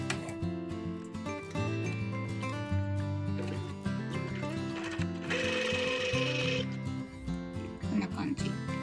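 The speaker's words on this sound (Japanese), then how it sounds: "家庭用ミシンの方はこういう風に、うん、手動でこうくるくる回していった方がめっちゃあの楽にできます" A household sewing machine stitches while its wheel is turned by hand, giving a steady mechanical whir and clatter under a dense tonal background with a brief brighter burst midway.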